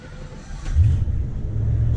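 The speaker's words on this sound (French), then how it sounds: "On entend quand même qu'il y a un gros moteur." A big Rolls-Royce engine running, heard as a low, smooth rumble that swells slightly as it picks up, steady and fairly close with little high-end noise.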